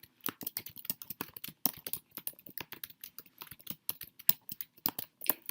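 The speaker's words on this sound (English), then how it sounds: "I'm going to type something here." Rapid, steady typing on a computer keyboard, close and crisp, a dense run of individual key clicks with no talking.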